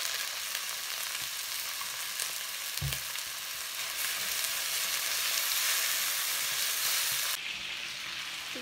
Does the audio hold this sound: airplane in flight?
no